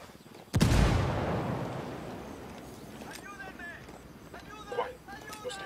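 A sharp, heavy frag grenade blast in Ghost Recon Wildlands booms close by and then fades into a long rumbling tail, while voices talk over the settling noise afterward.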